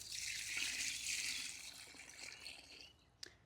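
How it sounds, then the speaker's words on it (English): Tap water runs into a hot dye bath with a bright, hissing pour that slowly tapers off, ending with a short clink near the end. "what we're going to do is add a little bit of like the regular water just to kind of cool it off a tad bit"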